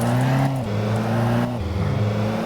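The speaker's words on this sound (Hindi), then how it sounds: "हम धीरे धीरे गाड़ी को चला सकते हैं" Engine of a car driven slowly in the video game Car Dealership 2, a loud continuous drone that steps between gears, with no talk over it.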